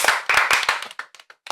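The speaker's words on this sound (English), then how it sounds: "let's have a round of applause" A few people clap for a family member at home, a short burst of hand claps that thins into scattered, separate claps, close and fairly loud, with no talk over it.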